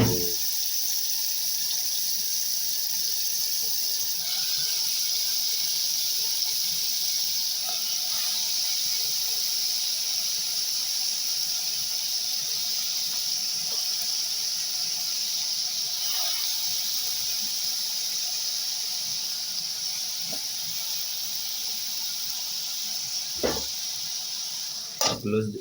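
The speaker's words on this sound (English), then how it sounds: "close the lid, let it boil" Steady hiss and bubbling of a pot of vegetables boiling under a closed lid on a stove, constant and close for the whole stretch, with a couple of soft knocks near the end.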